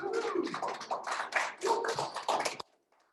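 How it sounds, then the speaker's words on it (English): A meeting audience gives a round of applause: a dense burst of clapping from many hands, loud and close, that runs for about two and a half seconds and then stops abruptly, leaving near-silence. "Let's give all of them a round of applause."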